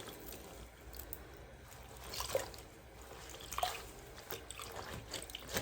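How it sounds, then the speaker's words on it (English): Water drips and trickles softly from a wet wrap gently squeezed by hand, with scattered small splashes and dribbles, close and quiet, without any talking. "I'm being careful not to wring it, just squeezing like this."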